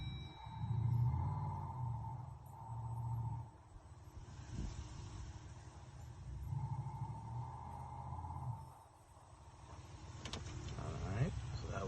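Inside a Jeep 4xe, the Thor active exhaust plays its gas-mode sound: a synthetic engine-like drone swells twice, each time holding for a few seconds before fading, with a faint cabin hum in between.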